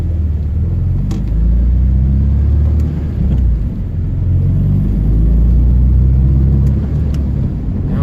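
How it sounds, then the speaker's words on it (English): A Nissan 240SX S14 pulls away in first gear, its engine a steady low rumble and whir heard from inside the car, loud and continuous with no one talking. "put in first gear, and we're gonna go for a drive"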